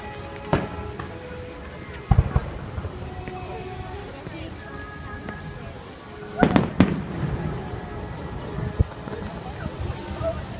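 Fireworks bursting over Magic Kingdom at Walt Disney World, heard from Tom Sawyer Island, with scattered sharp pops and a dense cluster of loud booms midway, set against a crowd murmur and wind.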